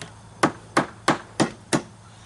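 Five sharp, evenly spaced hammer strikes ring out close by as a bent screw is knocked straight, each a crisp metallic tap with a short decay in a quiet room.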